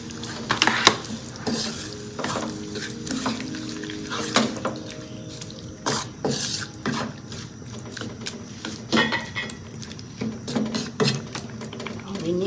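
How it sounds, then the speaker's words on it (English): Tomatoes tossed into cooking onions in a pan, with a steady sizzle under repeated scraping and clinks of a spoon stirring against the pan, close up. "I'm going to add all the tomatoes now"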